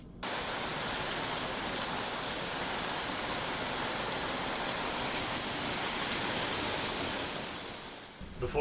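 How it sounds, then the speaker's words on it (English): Torrential rain pouring down around a sailboat, a steady dense roar that holds for several seconds, fades slightly near the end and then stops abruptly. "Torrential downpour."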